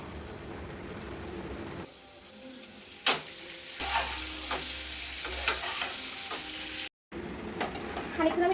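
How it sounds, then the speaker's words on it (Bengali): Onions frying in a pan as tomatoes are added and stirred, giving a steady sizzle with scraping and stirring clatter, one sharp knock, a brief cutoff, then the sizzle resuming. "এরপর আমি এর মধ্যে টমেটোগুলো দেবো"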